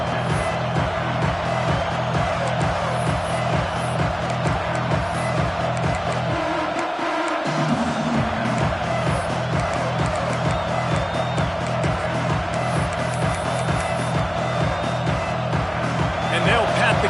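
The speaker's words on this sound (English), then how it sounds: "This crowd trying to do its part to get inside the kicker's head." A stadium crowd roars at a college football game between Alabama and Michigan, trying to rattle the kicker before a fourth-down attempt, with a sustained wall of cheering and rhythmic chanting under a commentator's voice.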